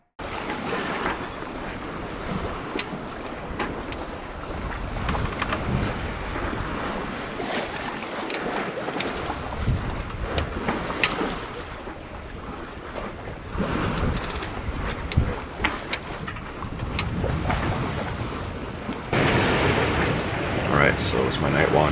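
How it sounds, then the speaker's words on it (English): Wind and sea wash surround a sailboat cruising at about 7 knots on an open Pacific Ocean passage at night, a continuous broadband rush with gusty swells and intermittent splashes, loud and unbroken throughout. "We got some decent wind out here."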